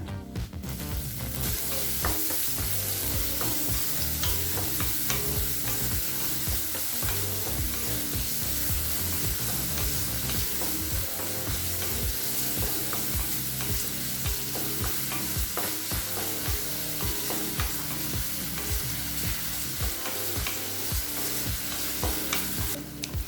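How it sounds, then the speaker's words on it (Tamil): Loud, continuous sizzling and crackling of finely chopped onions frying in oil for masala pasta, with occasional scraping stirs, steady throughout and no voices. "இப்போ வெங்காயம் நல்லா வதங்கிடுச்சுங்க."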